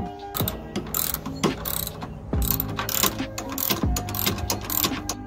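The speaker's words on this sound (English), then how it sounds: "the very last thing we're going to take apart before we undo the cable is we're going to take off the" A socket wrench ratchets while a car hood latch is removed during a hood release cable replacement, giving bursts of close clicking with metallic knocks between them.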